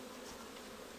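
Honeybees buzz at a hive on an Ivry balcony, a steady, faint, continuous drone that holds evenly throughout with no voices.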